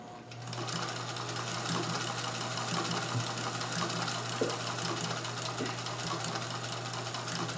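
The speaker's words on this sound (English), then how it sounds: "it's a very nice, peaceful thing to do this on a Singer 201 here, which is what I'm doing on with the Singer blind stitch attachment" A Singer 201 sewing machine fitted with a blind stitch attachment runs continuously at an even pace, a steady mechanical whir and rapid ticking close by, with no talking.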